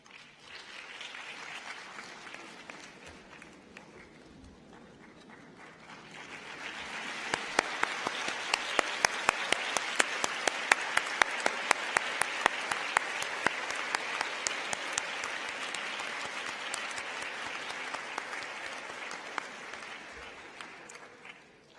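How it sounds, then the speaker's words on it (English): Graduates on their feet at a university convocation give sustained applause for their parents, clapping swelling after a quieter start into a dense, loud ovation with sharp individual claps standing out, then holding steady to the end. "please join me and rise to your feet to salute our parents with a clap of honor"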